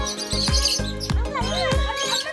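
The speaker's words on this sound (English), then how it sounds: "This bird is greeting us by saying hello." A bird in a large open zoo aviary at Wadi al M calls with repeated bright chirps and tweets, close and clear, while someone talks over it.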